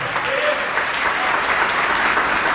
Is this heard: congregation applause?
yes